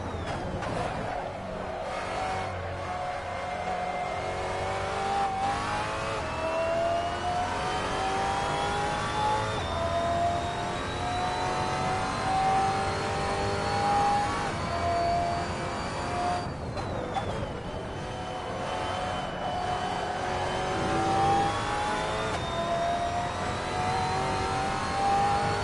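A race car in Assetto Corsa lugs in third gear, its engine droning low and steady as revs rise slowly and then drop back at a shift before climbing again, heard close and alone.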